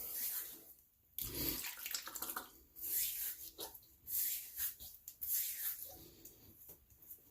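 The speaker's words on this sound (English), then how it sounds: "I'm going to go ahead and wet the head" Water runs and splashes in uneven bursts, like hands scooping from a filled sink to wet a head before shaving, with brief quiet gaps between the splashes.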